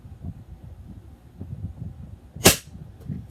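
A single sharp shot from a WeTech SIG gas blowback airsoft pistol fired through a chronograph, one loud crisp crack with a short tail standing out from quiet low background rumble.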